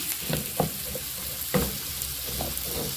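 Onions frying in a pan for mixed vegetables, a continuous close sizzle broken by a few stirring scrapes and light clacks of the utensil.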